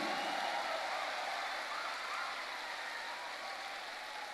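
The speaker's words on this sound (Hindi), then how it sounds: "जोरदार तालियां होनी चाहिए" Dense, continuous applause from a sizable audience at a motivational speech, holding at a steady level before tapering slightly.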